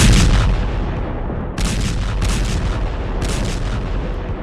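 Explosions near the Bushehr nuclear plant in Iran boom continuously, a dense, loud rumble of blasts and gunfire-like cracks with several sharper bursts breaking through.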